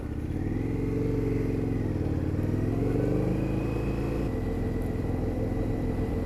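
An Indian FTR 1200S flat-track motorcycle ridden at low speed, its big twin engine a steady, close, continuous rumble that shifts pitch slightly as the throttle changes, with no talk over it.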